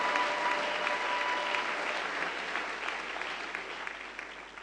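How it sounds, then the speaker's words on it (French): A church congregation applauds loudly during a sermon, a dense, steady wash of clapping that holds for several seconds and fades slightly toward the end. "Nous l'acclamons très fort."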